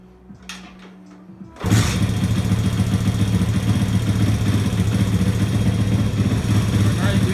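A 1983 Honda ATC70 three-wheeler with a swapped carburetor is kicked over and fires up, after a few light clatters, into a steady, even idle that runs loud and close to the end.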